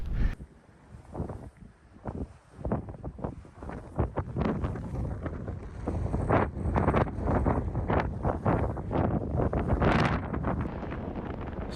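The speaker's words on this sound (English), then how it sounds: "the rate at which the turbine is spinning round means the wind is really high" Strong wind gusting near spinning wind turbines, a loud, continuous rushing roar with buffeting bursts striking the microphone, building in intensity and staying heavy to the end.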